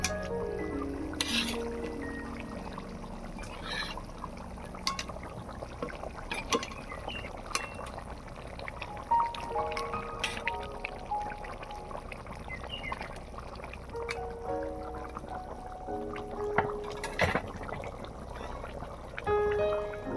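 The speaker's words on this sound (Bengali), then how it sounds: "ঝোল ফুটে গিয়েছে, এবারে ভেজে রাখা মাছগুলো দিয়ে দেব।" Fried pangas fish pieces go into a boiling curry broth, heard as quiet bubbling and gurgling liquid with scattered soft splashes and clinks from the pot, steady and close for about twenty seconds.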